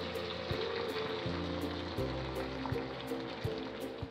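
Chicken-bouillon sauce is poured over meat-and-cheese-stuffed güero chiles in a hot pan, making a steady, soft sizzling and liquid wash with a few faint clicks and a low background hum.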